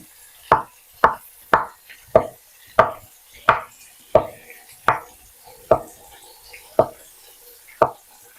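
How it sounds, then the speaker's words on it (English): A kitchen knife dices a vegetable for a stir fry on a cutting board, about a dozen crisp, evenly spaced chops knocking against the wood in a steady rhythm, close and clear with quiet gaps between. "This we want to dice to make it smaller because we're going to put it in last"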